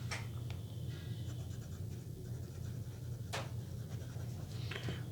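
Fountain pen with a medium 14 karat gold nib scratching softly across paper in Monteverde Ruby ink, faint strokes and taps over a steady low background hum.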